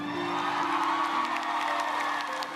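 Large live-event crowd cheering, whooping and shouting for TV host Willie Revillame, a dense, continuous roar of voices that holds steady throughout.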